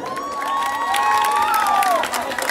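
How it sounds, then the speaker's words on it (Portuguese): Crowd at a square reinauguration event in Brazil cheering and shouting loudly, with whistles and raised voices over a dense, sustained roar. "Nós temos que dar uma salva de palmas ao Pingo d'Água."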